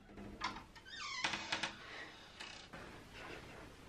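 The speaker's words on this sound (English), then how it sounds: "Check out that cat." A cat meows several times, faint and fairly close, with soft rustling and creaking in a quiet room.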